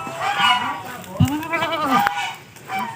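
Goats bleat in short wavering calls at a farm petting area where turkeys and rabbits are also kept, one close bleat standing out amid mixed animal cries and nearby people talking.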